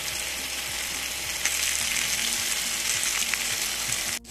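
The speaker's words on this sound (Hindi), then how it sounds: "स्टेक हमारा कुक होने के करीब है। अब इसको हम करेंगे बटरिंग।" Beef steak sizzles and fries steadily in butter in a hot pan, a loud continuous crackle with small spitting pops throughout, no voices.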